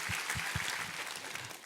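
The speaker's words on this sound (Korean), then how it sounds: "우리 하나님께 감사와 영광의 박수 올려드리겠습니다" Short applause from a church congregation during a Thanksgiving worship service, with a few heavy low thumps at the start that then settle into a softer clatter.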